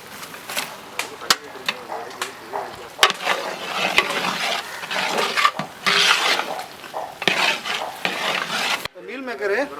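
Boiled meal maker soya chunks are stirred into cooked vegetables in a pan for veg biryani, with scraping spoon strokes, metal clinks and a soft sizzle in uneven bursts up close.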